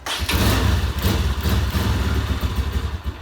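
A motorcycle engine idles after a cold start, a close, loud, throbbing low rumble with an uneven, lumpy rhythm that never settles.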